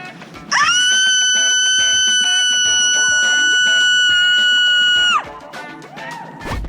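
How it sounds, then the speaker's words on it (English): At a street protest, a bystander lets out one long, loud, sustained shriek lasting several seconds, shouting at the protesters, with scattered voices around it. "Scream at them, approximately 14 times"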